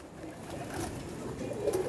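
Salaray teddy pigeons, fancy birds in molt, coo faintly, with a low murmuring call rising near the end over continuous ambient noise.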